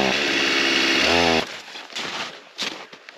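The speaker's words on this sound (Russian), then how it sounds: "Похоже, пила замерзла." A chainsaw out on a frozen lake during a winter fishing trip runs loud and steady, then abruptly cuts out, leaving faint rustling and a few soft knocks.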